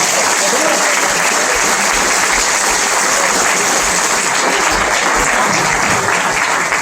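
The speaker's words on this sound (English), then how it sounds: "I want you to clap like you've never clapped before" A live comedy-show audience at the Clemens Center in Elmira, NY claps and applauds loudly and steadily, a dense continuous roar of hands throughout with no pause.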